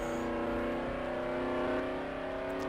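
Steady car engine drone with a faint rev rise, heard alone and close in a test build of a video game, the harmonic hum holding even throughout with no talk.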